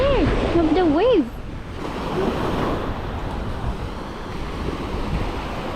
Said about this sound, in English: I'm scared of the wave.